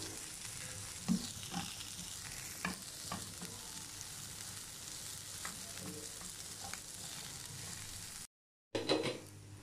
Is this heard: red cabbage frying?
yes